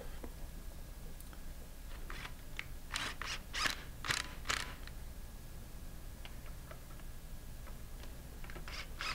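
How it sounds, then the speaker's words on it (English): Large clamps being tightened by hand on a metal pump, giving a quiet cluster of short ratcheting clicks and scrapes, close and faint against a low hum, with no one talking. "Now we're ready to tighten our large clamps."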